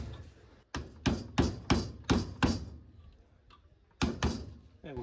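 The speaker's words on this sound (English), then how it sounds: "We'll give that a hit with a hammer and try and fix that up." Hammer blows on a bent metal piece salvaged from furniture, struck in a quick run of about five sharp, loud metallic hits, a pause, then two more strikes close by.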